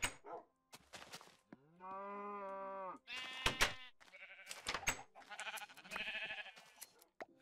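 Sheep bleating in the Minecraft video game, several distinct drawn-out bleats in close succession with short gaps, clear and near with no talking.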